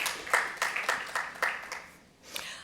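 A few people clap in a thin, uneven smattering of applause that fades briefly before one last clap.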